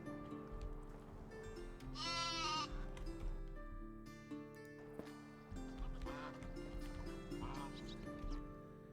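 Sheep bleating in Medieval Dynasty on a farm in winter, a few wavering bleats heard fairly close over a steady background soundscape, alone without talk.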